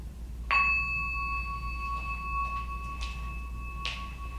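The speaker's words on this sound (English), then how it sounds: "listen for the sound of the bell to bring us in and out of the meditation" A meditation bell struck once, a clear ringing tone that hangs and slowly fades over a quiet room with a faint low hum, a few soft taps heard alongside.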